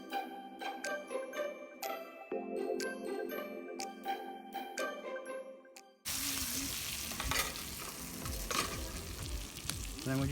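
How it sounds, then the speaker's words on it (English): Onion, garlic and oil frying in a pan, a steady close sizzle with stirring, the first half overlaid by music and the second a dense, louder crackling fry. "Because you've got onion and garlic and oil in there, that's just going to fry up"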